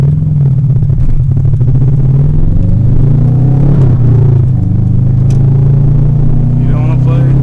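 A car fitted with a ProCharger supercharger rumbles at a steady idle, a deep droning engine tone with faint blower whine, loud and close, while people talk over it.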